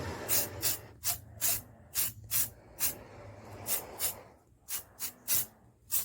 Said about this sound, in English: this etching primer is going to make our spray paint stick to this like crazy